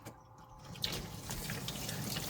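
Crabs rinsed one at a time under a running kitchen tap, a steady close splash of water over the sink for a couple of seconds with no talk.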